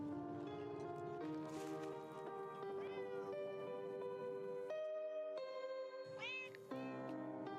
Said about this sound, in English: No, leave the kitty alone.